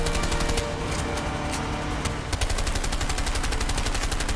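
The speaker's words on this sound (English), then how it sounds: "hey, stop shooting me!" Rapid automatic gunfire in the video game A Way Out, a dense, loud stream of shots with a brief lull midway before the firing picks up again, close and continuous.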